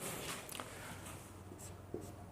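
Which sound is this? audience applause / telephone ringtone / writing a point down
writing a point down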